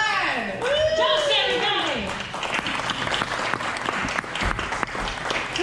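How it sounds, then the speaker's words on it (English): An audience claps steadily at a Western-themed show in Old Tucson. The applause is loud and continuous, with a person's voice calling out over it. "Quit your clapping."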